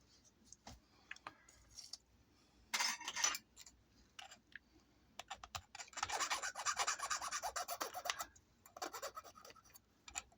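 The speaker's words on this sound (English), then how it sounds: "Just get rid of whatever burr is on that" A small file rasping the burr off a plastic Gundam model peg, close up, in short scraping bursts with pauses, building to a longer continuous stretch of quick strokes before trailing off.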